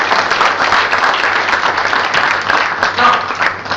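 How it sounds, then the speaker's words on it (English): Dense audience applause from a crowd at a talk, a steady, loud wash of many hands clapping throughout without a break. "Big round of applause."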